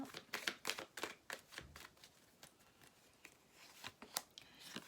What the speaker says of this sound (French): Allez, on va mettre une autre carte avec.